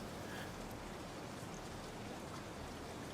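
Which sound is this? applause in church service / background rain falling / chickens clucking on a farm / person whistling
background rain falling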